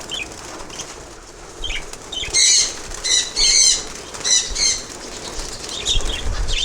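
Several flurries of budgerigars' wings flapping as they fly from a cage, in quick, fluttering bursts, close by, with short pauses between them.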